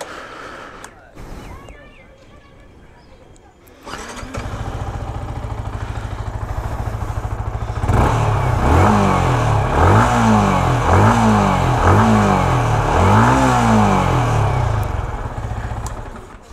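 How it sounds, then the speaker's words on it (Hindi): A Yamaha MT-15 V2 motorcycle starts up and settles into a loud, close exhaust note, with a series of rhythmic throttle blips rising and falling over the idle, with speech present. "चलो अभी एम को स्टार्ट करके आप लोगों को एग्जॉस्ट नोट सुना देता हूँ"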